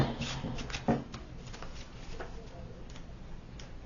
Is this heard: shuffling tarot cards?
yes